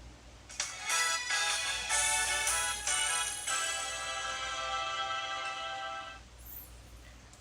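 A melodic ringtone plays from a small phone's built-in speaker, a series of bright, tinny tones that sustain and then stop.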